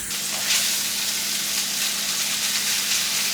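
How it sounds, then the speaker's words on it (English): Ground beef cooks in a pan for bulgogi-style seasoned topping, giving a steady, close sizzle with a bright hissing texture that holds evenly throughout, with no voices. "Just continue to cook and until the beef is all fully cooked."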